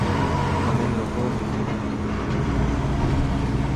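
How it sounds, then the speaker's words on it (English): A locomotive-hauled train approaches at a railway station near a road overbridge on Harihar road in Shimoga, heard as a steady, loud rumble of wheels and engine with broad traffic-like noise throughout. "Coming loco."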